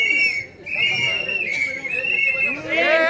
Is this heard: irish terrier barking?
no